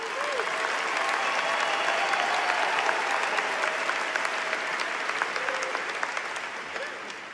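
Sustained crowd applause for graduates at a Fort Collins High School graduation ceremony, a broad steady wash of clapping lasting several seconds, with faint scattered voices and cheers mixed in before it slowly tapers.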